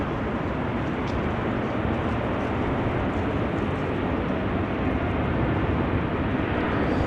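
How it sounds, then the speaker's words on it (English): Emirates Airbus A380 at Amsterdam Schiphol Airport, a steady broadband engine roar that stays loud and even throughout with no voices. "Here we have the Emirates A380."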